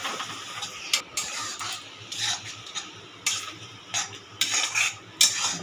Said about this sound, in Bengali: তখন আমি এইভাবে নেড়ে নেড়ে আমি পাক করে নিচ্ছি।